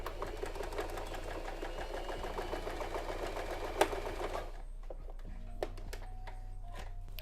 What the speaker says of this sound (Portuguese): Aí eu vou costurar e vou explicar certinho para vocês o porquê.